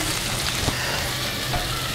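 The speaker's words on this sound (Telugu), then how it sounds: "ఇప్పుడు ఇవన్నీ బాగా కలిసేలా కలుపుకుందాం" Ivy gourd pieces with turmeric and salt being stirred in a pan, a dense continuous sizzle with a couple of soft scraping strokes, close up and without talk.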